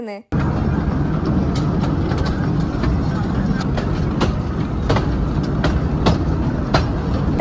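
A toy train in Ooty rolls along its rails with a steady rumble and regular rhythmic clacks, fairly close and loud.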